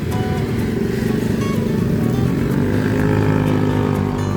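A small Trans Banyumas bus running its route out of Purwokerto, with a loud, steady engine drone and road rumble heard from close by, continuous throughout with no talk.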